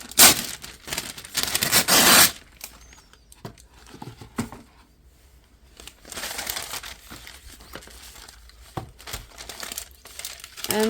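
Baking paper being crinkled and handled to wrap a sublimation mug, loud crumpling at first, then scattered rustles, taps and scrapes at close range.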